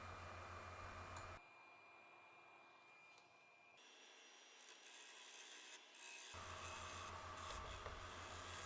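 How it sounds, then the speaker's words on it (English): Negative rake scraper taking fine finishing cuts on a turned live edge branch piece on a wood lathe, a close, steady hissing scrape that comes and goes over the running lathe. "Here I am now, just using the negative rake scraper."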